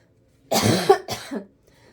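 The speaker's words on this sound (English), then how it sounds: "Pardon my coughing" Two quick coughs, close and fairly loud, the first longer and harsher than the second, followed by quiet.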